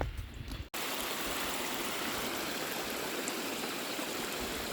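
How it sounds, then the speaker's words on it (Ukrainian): A waterfall in the Tatra Mountains roars in a constant, dense rush of water close by, starting abruptly after a brief quieter moment and continuing steadily. "водоспад"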